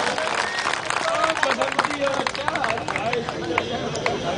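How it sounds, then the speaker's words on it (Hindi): A crowd at a poetry gathering in Gwalior claps to welcome performers, a dense steady burst of applause that stays loud throughout, with voices mixed in. "इनके लिए एक बार जोरदार तालियों से इनका स्वागत।"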